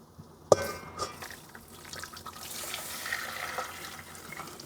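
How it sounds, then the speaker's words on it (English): Water pours from a container into a pot of flaxseed in a kitchen, starting with a sharp clink and then a splashing, trickling flow at moderate volume, no talking. "we're going to pour this water again into our flaxseed."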